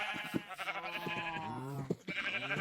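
In the farming game Orca's Village, sheep bleat loudly in overlapping wavering calls, several voices rising and falling close together with no talk.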